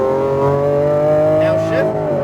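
A Lamborghini Aventador accelerating on throttle on a racetrack: loud, steady engine drone with rising harmonics. A voice talks over it, and a brief tire sound comes near the end.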